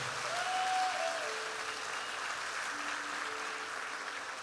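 A church congregation applauds during a sermon, a steady, fairly dense round of clapping that fills the room for several seconds.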